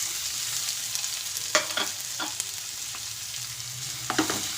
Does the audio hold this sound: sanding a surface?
no